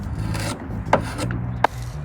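Sandpaper of 220 grit rubbing across the wood veneer of a mid-century modern dresser, a steady scratchy rasp with two sharper strokes standing out, close by and alone.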